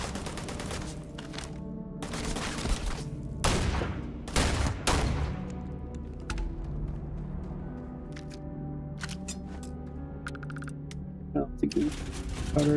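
Rifle fire in Starfield: a string of sharp, cracking shots in uneven bursts, some clustered rapidly, with ringing tails and a steady low hum beneath, growing sparser later.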